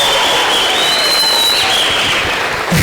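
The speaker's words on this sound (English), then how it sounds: "A good round of applause." An audience at a youth program campus opening event claps in a brief, dense round of applause, loud and continuous, without talk.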